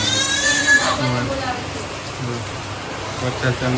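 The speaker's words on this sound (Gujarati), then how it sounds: "વરસાદ" Steady rain patters down close by, a continuous hiss of drops, with people talking over it.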